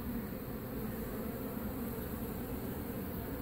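Dense, steady buzzing of a large honeybee colony being removed from a mobile home in Lakeland, Florida, with bees already building comb on the bars; a continuous close swarm drone with no voices.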